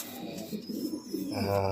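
Pet pigeons or doves give soft, close cooing calls in short repeated phrases, with a faint voice in the background.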